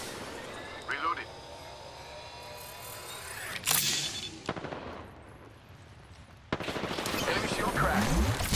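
Gunfire in the video game Apex Legends, with bursts of automatic fire and sharp single shots mixed with game effects, moderately loud and interrupted by a voice speaking.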